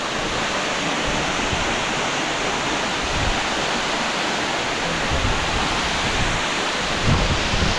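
Love Waterfall in Hoang Lien National Park, Sapa, Vietnam, roars steadily as a dense, continuous broadband rush of falling water, loud and close, with no voices heard.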